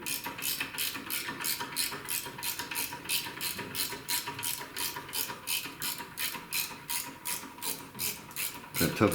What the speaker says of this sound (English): I do like these ratchets and wrenches.